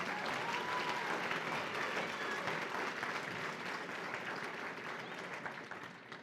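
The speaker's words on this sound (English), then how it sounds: "Can we give her another round of applause?" Sustained audience applause fills the room at a hope-themed keynote event, a dense steady wash of many hands clapping at even loudness that tapers slightly toward the end, with no talk over it.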